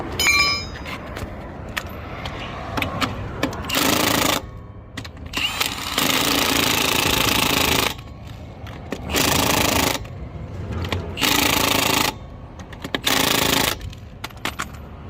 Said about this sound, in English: They say you can't use an impact on these locking lug nuts, but they're wrong.